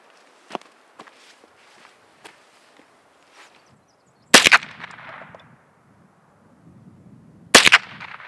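Two sharp, loud rifle shots outdoors by a river while sighting in a rifle scope, a few seconds apart, each followed by a brief rolling echo, with quieter clicks and light handling noises between them.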